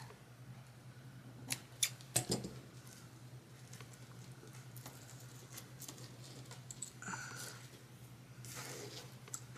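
Scissors snip loose a fuzzy thread caught on beads while making a crafted junk journal, a few quick close clicks and snips in the first seconds over a faint steady hum.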